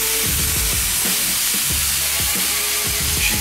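A pound of steak meat sizzles steadily in a pan with onion and green pepper, a continuous close crackle with repeated low scraping knocks as the food is stirred around.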